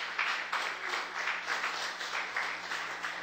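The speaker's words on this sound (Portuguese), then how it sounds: "Se você crê, aplaude o Senhor." Congregation applauding during a church service, steady rhythmic clapping from a group, fairly quiet and even throughout.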